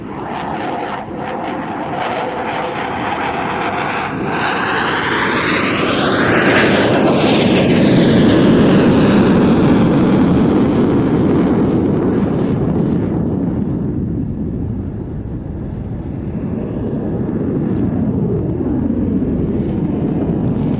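A Eurofighter Typhoon (EF2000) combat jet flies a slow roll at an airshow practice in Leszno, its loud engine roar swelling as it passes close overhead, then fading to a distant rumble.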